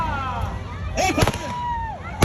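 Pistols fire at a pirate show at the King County Fair in Washington, giving a few sharp cracks spread across the moment amid outdoor crowd noise, with voices calling out.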